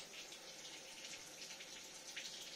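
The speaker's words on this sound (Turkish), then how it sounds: "Musluktan su boşalıyor şu anda." Water drains steadily from the tap of a combi boiler, a faint, continuous splashing hiss with no break.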